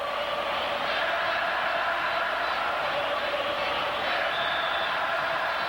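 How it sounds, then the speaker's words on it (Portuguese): Palmeiras supporters singing in the Maracanã stadium during the 1997 Brazilian Championship final against Vasco, a steady massed crowd chant heard from a distance, continuous and broad. "Canta a torcida do Palmeiras no Maracanã"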